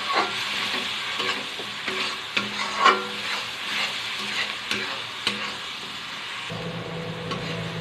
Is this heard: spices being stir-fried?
yes